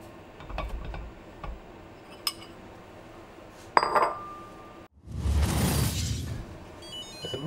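Chickpea flour is sifted through a sieve set over a pot of water: scattered light ticks and clinks, then a close, soft rustling swell as the sieve is shaken, with no voices.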